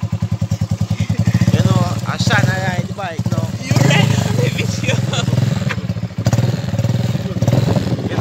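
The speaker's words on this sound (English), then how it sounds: "I'm trying to ride the bike now" A motorcycle being ridden, its engine running loud and close in a steady rhythmic pulse with some clatter and thumps, while people talk over it.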